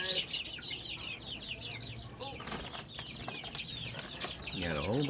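Chickens clucking and squawking in a farmyard among ducks and turkeys after a light thunderstorm, busy overlapping calls close by, with wing flaps and a louder rising squawk near the end.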